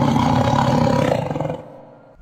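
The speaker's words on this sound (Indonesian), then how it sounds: "Yang kamu lihat tadi, ya betul, itu adalah seekor harimau." A tiger gives a loud, close, rumbling roar that pulses for about a second and a half, then cuts off abruptly into near silence.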